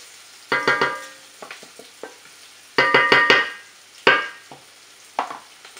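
Onions frying in a pan for a lobster curry, with repeated bursts of stirring and scraping in short clusters over a faint, steady sizzle, close by and without talk.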